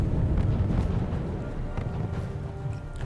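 Distant artillery fire in the Wargame European Escalation battlefield, heard as a continuous low rumbling boom with scattered thuds and no clear individual shots.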